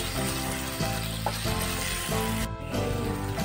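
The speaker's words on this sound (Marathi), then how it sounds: "टोमॅटो मऊ होईपर्यंत आपण परतून घेऊया." Finely chopped tomato sizzles steadily in a pan of oil and garlic paste as it is sautéed, with faint stirring and background music throughout.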